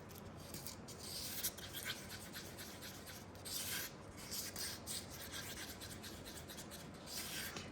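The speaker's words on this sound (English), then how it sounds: "You've got to scrape the sides and the bottom to make sure that you've mixed properly" Close, continuous scraping and rubbing as a mixing tool works around the sides and bottom of a container of thick two-part resin, with steady repeated strokes of fairly even loudness and no talking.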